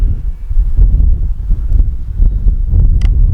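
Gusty wind blowing across the microphone outdoors at an RC airfield, a rumbling, uneven roar that swells and dips throughout, close and loud with no talk.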